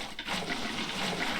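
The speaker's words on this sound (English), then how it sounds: "So now what you're gonna do is you're gonna fill these in with water." Water blocks placed in Minecraft while building a blue axolotl farm, a short rushing, flushing water sound swelling quickly and then flowing steadily, close and clear with no talk.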